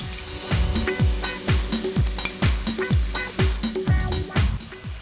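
Spices fry in a pan for chital fish korma while a spoon stirs and scrapes against the metal in a steady rhythm of clinks, about two strokes a second, over a soft sizzle, close up and fairly loud.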